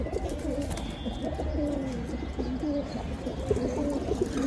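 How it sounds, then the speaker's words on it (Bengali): Pigeons in a loft, including a red female, coo in soft, repeated rolling phrases close by, over a low background hum. "এই হলো আমাদের লাল চুল্লি মাদি কবুতর।"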